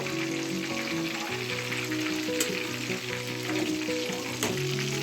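Boiled chicken pieces frying in hot oil for Hyderabadi chicken 65, a continuous close sizzle with bubbling crackle and occasional clinks of a utensil throughout.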